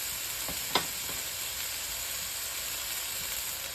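Foraged common milkweed pods cooking in oil and butter with herbs over medium heat, making a soft continuous sizzle with a few faint clicks and one brief sharper tick near the start.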